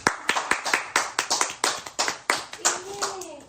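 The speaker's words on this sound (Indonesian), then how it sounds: "Tepuk tangan dong." A few people clap by hand at close range during a casual live stream, with sharp, irregular claps over several seconds and a voice speaking near the end.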